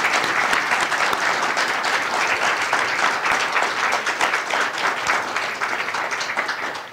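Sustained audience applause after a journalism panel discussion, a thick continuous roar of many hands clapping that holds steady and loud for several seconds, with no talk over it.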